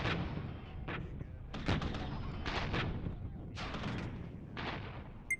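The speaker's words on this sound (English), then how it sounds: "we have 4 tanks shooting at 3 T-80UDs. And we have mortars shooting at it as well." Tanks and mortars pounding T-80UD tanks in the real-time tactics game Regiments, a string of sharp, heavy cannon and mortar bangs spaced irregularly over a constant rumbling battle background.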